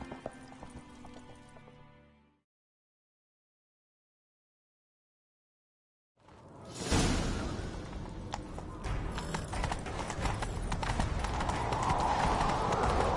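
Hoofbeats of a galloping horse in a video game pound steadily and loudly after a short silence, following a stretch of background music.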